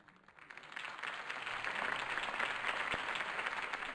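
Video game crowd applause in Batman: Realm of Shadows swells from a few scattered claps into steady, moderately loud clapping, slightly distant and reverberant.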